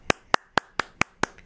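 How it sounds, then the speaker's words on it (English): Six sharp, evenly spaced hand claps ring out close and alone, a slow single-person round of applause marking the arrival of New Game Plus for Marvel's Spider-Man 2 on PS5. "let's give everybody a round of applause"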